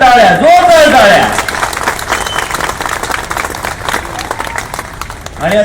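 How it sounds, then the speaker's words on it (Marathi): An audience at a Sharadotsav lecture series event claps in a dense, steady burst, loudest at the start and then continuing at a lower level, with a voice speaking over it near the beginning and end. "त्यामुळे पुन्हा एकदा जोरदार टाळ्या, जोरदार टाळ्या."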